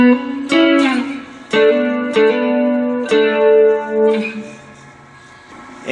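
Four-string cigar box guitar slowly strumming the chords of a song, with about six separate chord strikes each left to ring and decay, close and clear with no talking.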